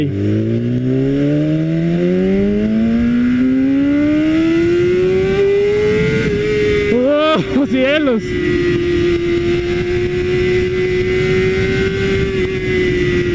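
A BMW S1000RR sportbike in slick mode with traction control off revs hard, its engine note climbing steadily and holding high, with a couple of quick throttle blips; a rider's excited voice briefly cuts in over the loud, close engine.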